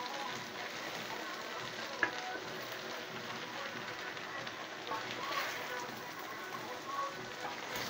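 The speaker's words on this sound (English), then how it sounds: "After putting my spaghetti, I now stir it." Spaghetti sizzles in a frying pan with a continuous, even hiss like light rain, soft and steady throughout, with a few faint clinks of stirring.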